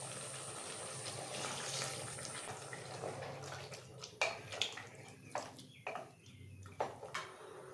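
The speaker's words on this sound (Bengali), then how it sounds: "এখন জল দিয়ে দেব।" Water poured into a pot of mutton kosha with potatoes, a steady splashing pour running for several seconds, then trailing into a few separate sloshes and clinks near the end, with no talk.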